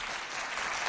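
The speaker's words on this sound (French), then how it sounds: "Est-ce qu'on peut l'applaudir?" Audience applause at a school singing event, a dense steady clapping filling the whole second with no voices over it.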